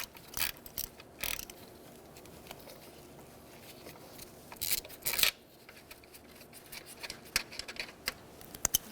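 A ratchet with an 8mm socket loosens intake manifold bolts on a 2000-2007 Ford Taurus 3.0L V6, giving scattered sharp clicking bursts and short rattling strokes close by, with no talk.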